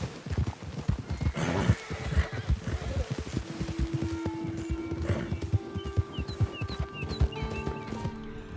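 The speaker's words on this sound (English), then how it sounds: "There's a wild horse." Wild horse in a video game, hooves clip-clopping in a quick rhythm at close range, followed by a whinny and softer movement sounds.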